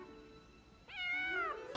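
A cat in the Homeward Bound film gives a single clear meow, rising then falling, after a quiet faint tonal background, close and fairly soft.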